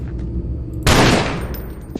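Semi-automatic AK-style 30-round rifle firing in the video game EYE, a sudden loud burst of gunfire that decays over about a second, with faint game ambience before it.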